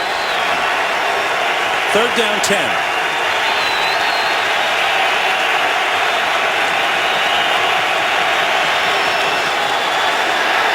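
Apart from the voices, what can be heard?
football stadium crowd cheering, Giants home game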